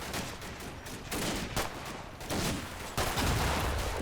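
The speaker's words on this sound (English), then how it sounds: "Explosions right, left, and center. Could be mortars. Could be bazooka teams as well." Explosions and rapid gunfire from the WWII tactical game Combat Mission: Battle for Normandy, with dense overlapping bursts of shots and heavy blasts repeating throughout, loud and continuous with no talk.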